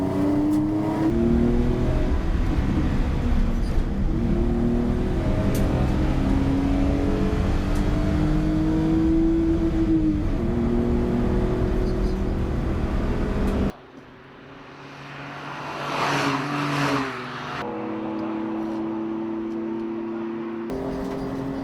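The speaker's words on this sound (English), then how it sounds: "my first tentative laps in a brand new race car around an unfamiliar circuit" A 68-horsepower hatchback race car lapping a dry circuit, its engine droning loud and steady with rising and falling revs, then a sudden drop to a quieter whir before the engine note builds again.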